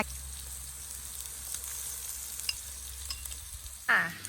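Steady sizzling of pork cooking on a hot Thai moo kratha grill pan, close by, with a brief louder scrape or clatter just before the end.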